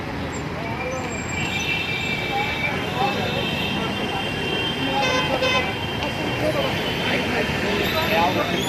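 Busy late-night traffic at Navale Bridge in Pune, with vehicles rumbling past and repeated horn toots sounding near and far, while someone talks over the steady road noise.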